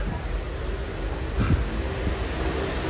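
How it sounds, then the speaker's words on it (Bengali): A local train bound for Sealdah in India rumbles at a station as a steady low drone, with a slight swell in the middle and no talk. "এটা হচ্ছে সেই ট্রেনটা যেটা শিয়ালদা যাবে।"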